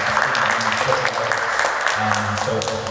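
Audience applause at a Q&A event, a dense continuous patter of clapping from a crowd that holds steady and begins to thin near the end.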